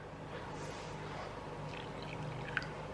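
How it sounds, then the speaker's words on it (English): Water splashed from a container into a bowl of two teaspoons of dressing ingredients, a brief soft pour and trickle heard close up and alone. "I'm gonna add a splash of water"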